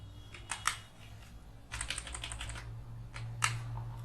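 Fingers type a heading into MS Word on a computer keyboard, with short clusters of close, crisp key clicks separated by pauses over a low steady hum.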